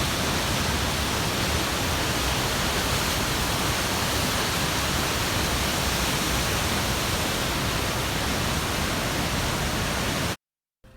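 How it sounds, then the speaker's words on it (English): Powerful rushing waterfall at Smith's Creek near Boise, a dense, constant roar filling the whole clip at close range, with no voices, cutting off abruptly at the very end. "Powerful and rushing, this waterfall is not easy to find"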